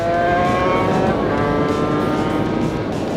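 A Suzuki RGV 250 two-stroke racing motorcycle engine revs high and loud, a steady buzzing wail holding near constant pitch without pause and with no voices.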